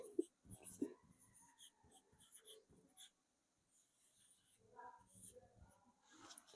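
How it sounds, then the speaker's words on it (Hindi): Writing out a definition during a Hindi music-notation lesson: soft, close scratching and tapping strokes in short irregular runs, quiet throughout, with faint voice sounds in places. "तो परिभाषा लिखेंगे"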